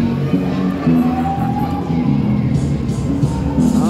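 A crowd at a rainy-night hockey game in Tweed cheers and shouts continuously, a dense roar of voices filling the arena at steady loudness.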